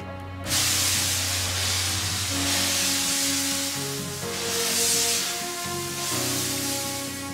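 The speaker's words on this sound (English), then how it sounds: "I can never get enough of riding a steam locomotive." Steady broadband hissing of steam escaping from a steam locomotive, loud and continuous, with low mechanical hum and tonal whistle-like lines beneath, swelling slightly midway.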